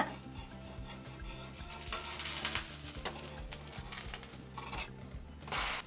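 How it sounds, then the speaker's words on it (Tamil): A lid is opened and an idli-batter snack frying in a pan is flipped. Steady sizzling comes with scraping and clattering of the spatula and pan, and a louder burst of clatter at the end. "நான் மூடி ஓப்பன் பண்ணுறேன் பொறுமையாக நம்ம இதை திருப்பி விட்டுக்கலாம்"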